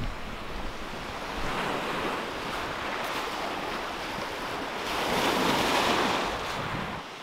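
Waves wash onto a lake beach near Traverse City, Michigan, in a steady, broad rush that swells twice, mixed with wind buffeting the microphone, fairly soft and with no voices.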